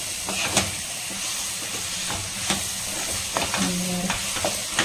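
Potato curry stirred in oil in a kadai makes a continuous close sizzle with hissing steam, broken by intermittent scraping and clinking of a spoon against the pan.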